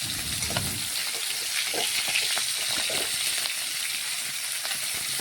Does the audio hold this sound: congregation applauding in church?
no